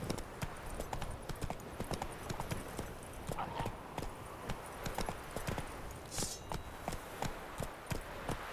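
Hooves of Roach, the horse in The Witcher 3: Wild Hunt, pound in a fast, even galloping rhythm, close and prominent across the whole stretch.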